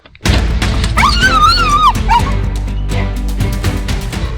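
Excited dogs bark and yelp loudly close by, with a high whining howl rising and falling over the commotion.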